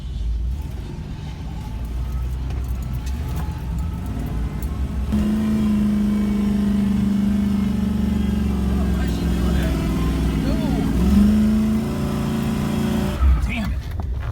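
A Ford Bronco's engine revs hard and holds a steady drone as its tires spin trying to climb a steep off-road test hill at a Bronco event, loud and close, with people talking over it.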